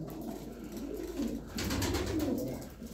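Racing pigeons coo nearby in a loft, soft low throaty calls rising and falling in a few bursts over quiet background noise, with no speech.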